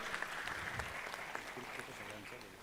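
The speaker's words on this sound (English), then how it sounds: "Ladies and gentlemen, a round of applause." Audience applause at the IGF Mumbai: NXT25 event in Mumbai, a steady wash of clapping from a large hall audience, fairly distant and moderate, with a voice talking over it.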